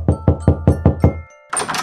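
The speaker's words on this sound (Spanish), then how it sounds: "Llegas a tu antiguo hogar y procedes a tocar la puerta." Six loud, evenly spaced knocks on the door of an old family home, close and sharp, followed by a short pause and a burst of rustling noise.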